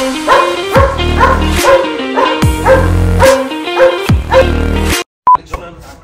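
A German Shepherd at a hunting outing barks loudly and close by, a rapid series of sharp woofs with short whimpering yips, ending in sudden silence and a brief electronic beep.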